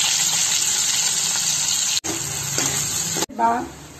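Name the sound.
mustard, fenugreek, cumin and onions frying in hot oil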